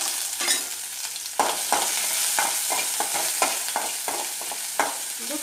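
Cumin seeds and ginger garlic paste fry in hot oil for a veg burger, giving a steady close sizzle broken by repeated scraping stir strokes, with no talking.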